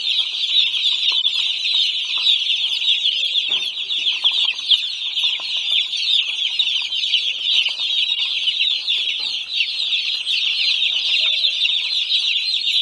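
A dense chorus of one-day-old broiler chicks chirps and clucks continuously, a steady high-pitched chatter from many birds at once.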